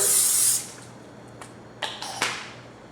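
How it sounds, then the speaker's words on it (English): A short, close hiss of cooking spray into a large baking dish opens the moment, followed by quiet pauses and a few light clunks. "get a large baking dish and then spray it with cooking spray"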